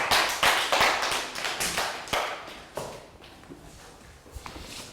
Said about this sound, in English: round of applause for Pearl